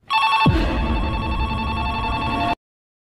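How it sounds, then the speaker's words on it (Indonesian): A telephone bell rings continuously and loudly for about two seconds, a bright metallic trill that cuts off abruptly into silence. "telepon itu masih saja berbunyi"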